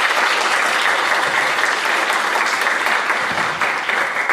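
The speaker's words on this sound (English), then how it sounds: "Please give them a huge round of applause" Sustained audience applause for student officer election candidates at a student union Q&A, a dense, steady wash of clapping from a sizeable crowd, loud and even throughout with no voices over it.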